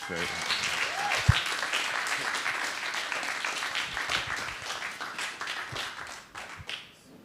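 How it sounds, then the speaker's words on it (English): Audience applause at a theater talks event, steady clapping from a crowd with a sharp tap near the start, fading toward the end, with some voices mixed in. "But another round of applause for Farida."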